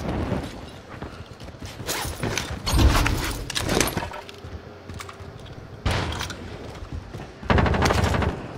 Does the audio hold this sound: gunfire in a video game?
yes